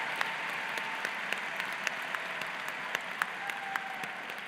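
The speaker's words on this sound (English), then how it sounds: "Let's give them another round of applause." Steady applause from a high school graduation audience, a continuous wash of many hands with a few sharper individual claps standing out, fairly distant and moderate in level.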